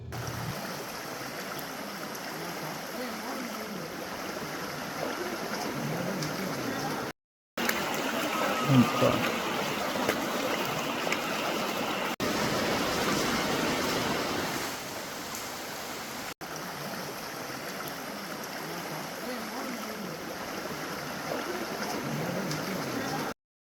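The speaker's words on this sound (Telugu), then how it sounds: "ఇదేనండి వాటర్ ఫాల్స్." Waterfall at Penchalakona temple, a steady broadband rush of falling water that is loud and continuous, with a few brief cuts.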